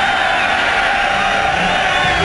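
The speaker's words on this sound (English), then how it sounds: "Listen to the crowd." Football stadium crowd at an XFL game between the Las Vegas Outlaws and Chicago Enforcers, a dense, loud and unbroken roar of cheering voices filling the whole short stretch.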